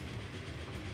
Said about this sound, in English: Here comes one of our other trains meeting in the tunnel.